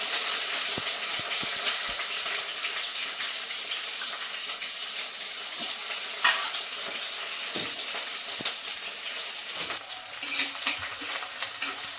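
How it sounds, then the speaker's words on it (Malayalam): Crushed onion, ginger, green chili and dried curry leaves sizzle in a pan for fish curry, a steady, fairly quiet hiss and crackle with scattered stirring clicks throughout. "പിന്നെ നമ്മുടെ ഉള്ളി ഇഞ്ചി പച്ചമുളക് ഇത്രയും ചതച്ച് വെച്ചിട്ടുള്ള കൂടി ചേർത്ത് കൊടുക്കുക"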